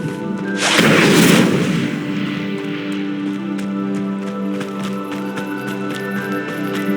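Incendio fire spell cast in Hogwarts Legacy to light stone pyres: one loud, roaring fiery whoosh that swells and fades over about a second, followed by steady in-game music.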